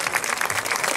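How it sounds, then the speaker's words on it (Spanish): An audience applauds Jorge Ibáñez at a live town event, producing a brief, dense and steady patter of many hands clapping. "pido un fuerte aplauso"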